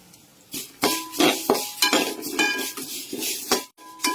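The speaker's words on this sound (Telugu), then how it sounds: "ధనియాలతో పాటు జీలకర్ర కూడా వేయించుకోవాలి." A metal spoon scrapes and clinks against a pan while coriander seeds and cumin are dry-roasted and stirred, with repeated sharp clatters in an irregular rhythm, close and moderately loud, with no talking.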